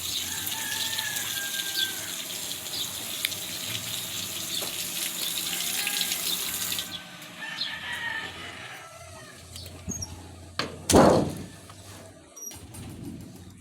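A water tap runs with a steady hiss for several seconds and then is shut off, while birds and chickens call faintly in the background.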